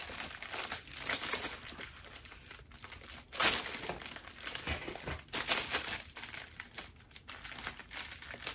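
Crinkling plastic wrap rustles and crackles continuously up close, with sharper crunchy bursts scattered throughout and no voices.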